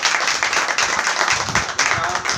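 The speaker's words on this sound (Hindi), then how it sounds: "एक बार जोरदार ताली प्रभु के लिए।" A church congregation at a fasting and prayer service claps loudly for the Lord, vigorous uneven clapping from many people with rhythmic bursts, close and continuous.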